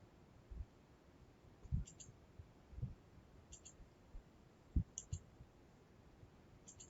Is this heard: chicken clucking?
no